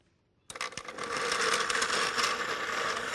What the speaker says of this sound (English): Put it inside the blender.